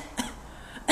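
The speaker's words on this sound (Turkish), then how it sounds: "Kuru, kesik kesik bir öksürüktür." Two short, dry hacking tic coughs, one early and a louder one at the end, close and isolated with quiet between.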